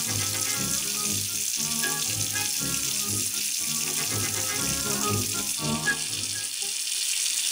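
Tap water runs steadily from a faucet in Kolyvan, Russia, a continuous hissing splash that fills the whole stretch with little change, cutting off briefly near the end.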